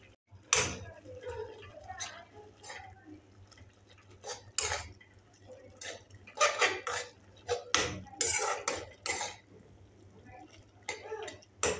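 A utensil scrapes and knocks against a pan as prawn Maggi noodles are stirred with masala and tomato sauce, an irregular series of clinks and clatters at close range, fairly quiet overall.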